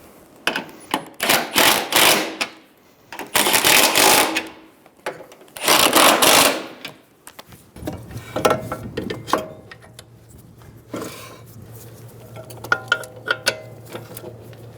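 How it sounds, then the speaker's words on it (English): A 15mm socket ratchet snugs the strut nuts on a 2007-2011 Toyota Camry's front strut and spring assembly. It gives several loud bursts of rapid clicking with pauses between, then lighter clicks over a low steady hum. "Snug the nuts down using a 15mm socket."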